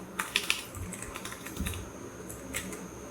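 Someone types briefly on a computer keyboard while writing code in Houdini software. The keystrokes are quiet, scattered clicks over a low room hum.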